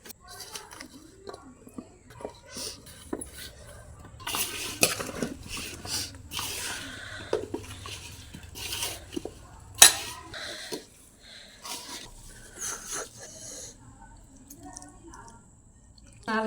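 Mango pickle pieces being mixed by hand in a bowl with oil, ginger-garlic paste and spices, giving soft wet squishing and occasional clinks of utensils against dishes, close up, in irregular bursts.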